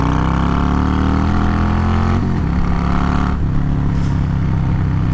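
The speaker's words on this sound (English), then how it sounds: "So yeah, that's my bike." A motorcycle engine runs steadily up close, its loud, continuous rumble shifting pitch slightly as it idles and revs a little, with no talking over it.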